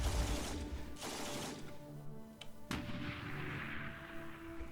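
Artillery in the Klotzen Panzer Battles strategy game fires on an anti-air gun in Norway 1940: a few heavy booming shots with rumbling decay, loud and close.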